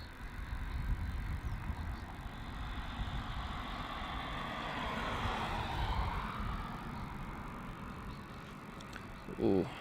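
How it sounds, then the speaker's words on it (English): A Qantas Link Boeing 717-200 takes off for Canberra from Melbourne Airport, its moderate jet roar rising and sweeping past at mid distance with a steady rumble underneath, ending with a brief nearby voice. "This is going to be Qantas Link flight QF 1524 off to Canberra. 717-200."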